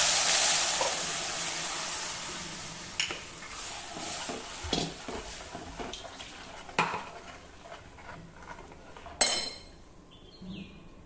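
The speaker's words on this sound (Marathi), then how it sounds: "लगेचच आपण हे मिक्स केलेलं ताक घालूया।" Mixed buttermilk hits a hot tempering of hing, turmeric and curry leaves in a pan with a brief hissing rush, followed by intermittent close clinks and scrapes of stirring, fading quieter toward the end.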